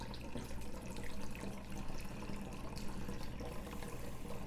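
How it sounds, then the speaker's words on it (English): Apple juice pouring through a funnel into a jug for cyser, a steady gurgling liquid stream held throughout, close and without talk. "Stick the funnel back in and pour in the rest of the juice"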